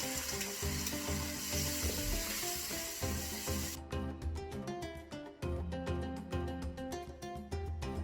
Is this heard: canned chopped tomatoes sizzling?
yes